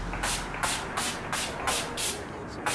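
Urban Decay Chill Makeup Setting Spray misted in a quick series of about six short pumped hisses, evenly spaced and close up, with nobody talking.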